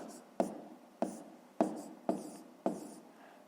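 Hand writing of numbers during a fifth-grade math exercise, with six sharp taps spaced evenly about every half second, each followed by a brief scratch, close and quiet.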